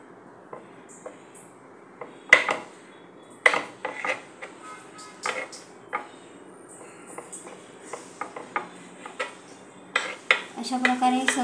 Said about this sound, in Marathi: अशा प्रकारे आपण याच्या कडा कापून घेऊया